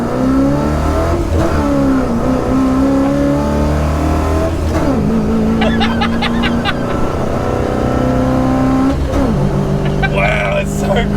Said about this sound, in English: let's see what happens when you power through the gears